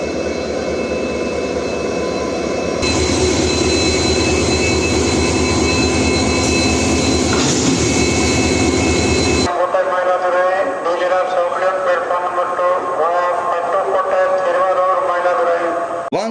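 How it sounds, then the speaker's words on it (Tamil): A WAP-1 electric locomotive arriving at Karaikudi station: a loud, sustained roar of motors and rolling wheels that drops midway into a lower, rumbling, squealing run as it slows. "VAP 1 லோகோமோட்டிவோட அரைவ் ஆயிட்டு இருக்குது."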